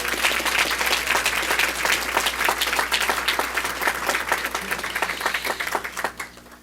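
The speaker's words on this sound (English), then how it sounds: "Let's give the Fire Sharks and students and coaches one more well-deserved round of applause." A school board meeting audience gives a sustained round of applause for the Fire Sharks students and coaches, dense and loud clapping filling the room for several seconds before tapering off at the end.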